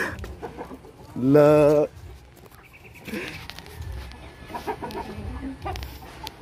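Newly hatched Brahma chicks, still wet, in a backyard setting give a loud, high peeping call near the start. Softer chirps and clucks follow as people talk nearby.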